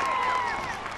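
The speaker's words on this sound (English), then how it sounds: "Give yourselves a round of applause for all the hard work you put into this." Crowd applause and cheering at a Georgia Day Parade, honouring the banner winners, a short continuous wash of clapping throughout.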